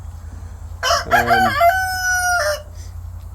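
Farm fowl kept alongside turkeys crow loudly and close by, a single full cock-a-doodle-doo over a low background hum, with faint clucking around it.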